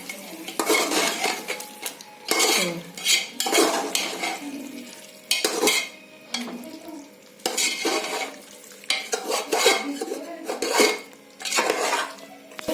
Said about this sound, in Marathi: त्याच्यामध्ये तांदूळ घालते।